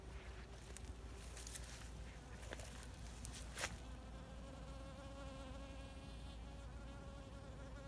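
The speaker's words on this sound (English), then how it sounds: "Not too many pollinators this year, but there's one." A pollinator insect buzzes among the flowers of an Alaskan summer garden, a faint steady drone near the microphone, interrupted early on by a few soft rustles and taps before settling into an even hum.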